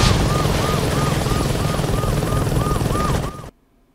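Loud, continuous helicopter drone in the video game Saints Row 2, with a steady rotor chop pulsing about three times per second over a heavy engine rumble, ending abruptly.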